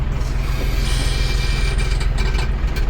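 A steady, low tractor engine idles close by on a farm, a constant rumble with a faint mechanical clatter running underneath.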